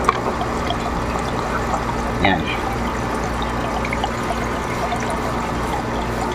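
Water runs steadily from an aquarium submersible pump outlet into a sump beneath an overhead filter, a continuous close pouring and trickling wash with a brief louder splash partway through and a faint voice over it.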